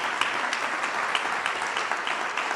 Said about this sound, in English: Let's just give them a little applause for that.